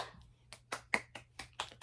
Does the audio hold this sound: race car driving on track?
no